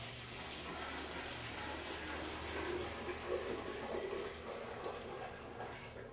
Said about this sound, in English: we're just going to pour our dechlorinated water into the bucket